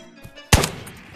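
A single sharp pistol shot in the VR shooter Tabor, close and loud, followed by a brief ringing tail over quiet background.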